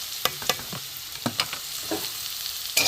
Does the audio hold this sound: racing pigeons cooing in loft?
no